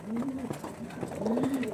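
Home-bred tournament-quality pigeons cooing close by, two drawn-out rolling coos with soft throaty pulses between them, no talk.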